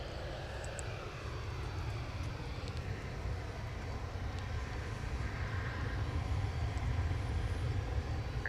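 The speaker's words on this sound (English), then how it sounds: "Got an A321 just departing for Tucson on runway 18 left." Airbus A321 jet departing on runway 18 left at DFW International Airport, a steady broad engine roar held at a distance throughout, swelling slightly toward the end with no talk.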